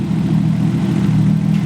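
An RB20 engine swapped into a Nissan S13 runs steadily nearby, giving a loud, continuous low droning hum with an even rumble and no talking.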